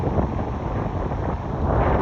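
Strong wind with rain roars continuously across the microphone on a beach in Thailand, a loud, buffeting rush with no pauses.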